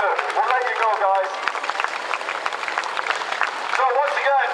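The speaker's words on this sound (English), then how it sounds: "your applause as they go back to the pit" Crowd at a speedway meeting applauds riders returning to the pits, a dense, steady patter of clapping with voices mixed in throughout.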